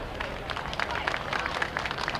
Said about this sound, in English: Let's give our directors and the volunteers a big round of applause.